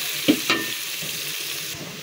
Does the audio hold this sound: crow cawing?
no